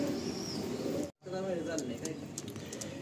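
Pigeons coo repeatedly in a loft of Andhra pigeons kept for sale, the soft calls sounding close and steady amid background chatter, with a sudden brief dropout partway through.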